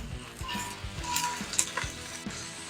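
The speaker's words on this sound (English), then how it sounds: "Continue sauteing the onion until they become translucent." Onion, carrots and celery sauté in a soup pot for navy bean soup, giving a steady moderate sizzle with occasional stirring scrapes and light clinks.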